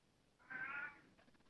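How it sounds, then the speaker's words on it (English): A single short cat meow, faint and somewhat distant, rising and fading within a second against quiet room tone. "Somebody's cat just meowed."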